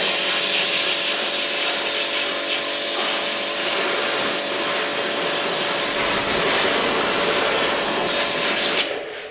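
A JPT 2300W pressure washer sprays a car in a steady, loud, continuous hiss and rush of water, with a motor drone beneath, before cutting off abruptly near the end.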